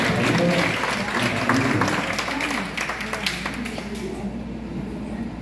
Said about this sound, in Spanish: un aplauso para todas las delegadas aquí y nuestros